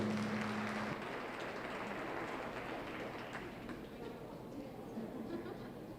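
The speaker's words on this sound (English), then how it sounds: "Please give them a nice round of applause for their efforts." An audience applauds at a youth fair market steer show in Polk County, a dense, sustained wash of clapping heard from within the arena that slowly thins out.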